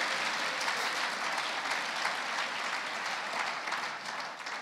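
A church congregation claps its hands in thanks during a sermon. The applause is soft and distant, a steady wash of clapping lasting under five seconds that thins slightly at the end.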